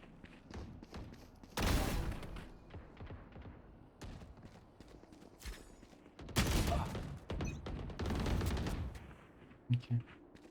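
Faint bursts of gunfire in a video game, scattered shots and a couple of denser volleys with thuds between them, heard at a distance and low in the mix, with no clear talk over them.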